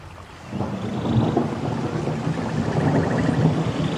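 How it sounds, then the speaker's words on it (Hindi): Steady monsoon rain pours over the Uttarakhand mountains with a low rumble of thunder building after the first half-second, a dense continuous wash with no voices. "मॉनसून की दस्तक के साथ ही उत्तराखंड में जो पहाड़ हैं वहां लगातार बारिश हो रही है।"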